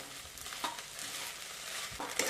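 Sabudana khichdi is sautéed and turned in a pan, giving faint scraping stirs and a soft continuous sizzle, quiet and close, with a couple of brief louder scrapes.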